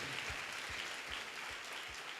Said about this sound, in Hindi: तालियां बजा के परमेश्वर को धन्यवाद दीजिए।